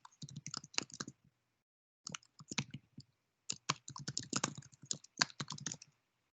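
Rapid clicking of keys on a computer keyboard comes in three quick bursts separated by short pauses, close and fairly quiet.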